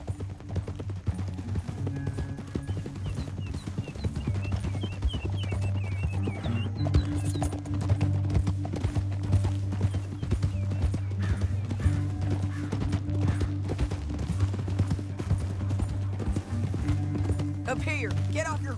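Horse hooves clip-clop steadily on a trail in the video game Red Dead Redemption 2, with occasional whinnies, a background music bed and distant gunfire, while characters talk over the riding.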